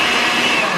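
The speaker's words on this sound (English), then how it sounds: "We got the cheapest blender we could at Target" A cheap Target blender whirring at a steady, loud, even pitch, close by, with no break through the short burst.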